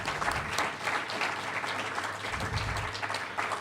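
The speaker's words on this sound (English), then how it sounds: "So I'd like to give them another round of applause." Audience applause at a public community talk, a steady patter of clapping hands filling the room for a few seconds, moderately loud with no speech over it.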